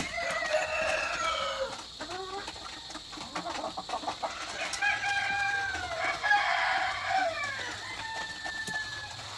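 Leghorn chickens in a farm flock cluck and crow, with several roosters calling in overlapping, drawn-out crows and busy clucking close by, continuing throughout over constant background noise.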